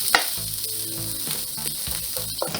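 Mushrooms, onions and garlic sauté in a hot pan with a steady, loud sizzle close to the mic. Occasional stirring scrapes and brief clatters interrupt the sizzle, and no voices are heard.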